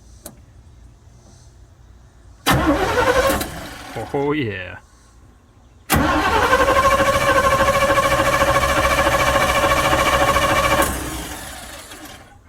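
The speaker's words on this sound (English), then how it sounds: "So I'm gonna see if this thing will turn over under its own power." An abandoned Chevy 1-ton tow truck cranks briefly, pauses, then fires and runs for several seconds with a loud, steady engine roar before dropping off. A short spoken exclamation comes between the attempts.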